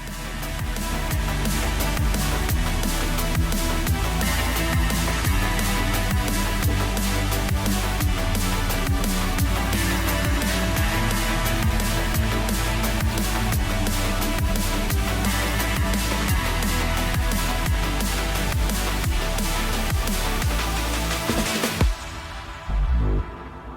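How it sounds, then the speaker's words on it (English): Continuous loud jungle and drum and bass mix, one track's ending running into the next track's beginning, with dense fast breakbeats and heavy bass that stop abruptly just before the end. "I'm treating this as if it were a DJ mix, not a mashup, because I'm starting at the end with one and the beginning of the other"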